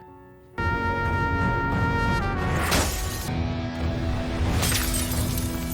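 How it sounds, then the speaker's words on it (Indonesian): A wooden stick smashes a bus window, and the glass bursts into a loud, sustained shatter with a bright crashing cascade that continues for several seconds. "langsung mengambil kayu dan memecahkan kaca bis itu sampai hancur lebur"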